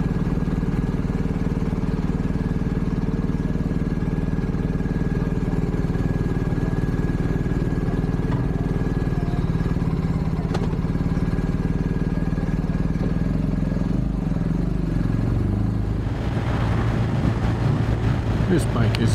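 A 2023 BMW R1250R motorcycle engine runs steadily throughout, a continuous low rumble at close range that shifts character near the end as revs change, with speech detected in the background.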